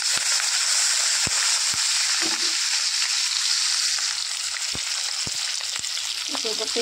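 Rohu fish pieces sizzling in a very hot wok, a steady loud frying hiss throughout with scattered sharp pops and crackles.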